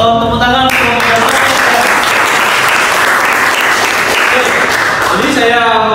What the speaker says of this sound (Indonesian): Tepuk tangan untuk kelompok Dalton.